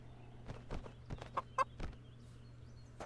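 A chicken in the VR combat game Blade and Sorcery gives a few short, quiet clucks spaced over a few seconds against a low steady background hum, with no talking.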